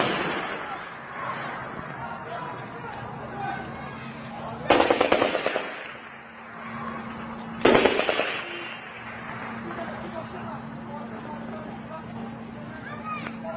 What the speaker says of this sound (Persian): صدای مکرر تیراندازی و در چند مورد رگبار